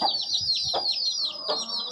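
Close, high-pitched chicken calls chatter continuously, with a couple of louder clucks breaking through the run of peeping.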